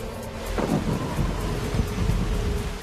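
Thunder rumbles low and loud with steady rain and wind in an outback setting where hail and bad weather keep falling, with no voices over it.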